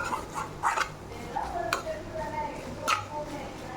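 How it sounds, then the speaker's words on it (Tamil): Prawn sukka stirred in a pan with coconut oil: scattered scraping and clinking of a spoon against the pan, fairly quiet, under a faint background voice. "தேங்காய் எண்ணெய் ஊற்றி நல்லா பெரட்டணும்."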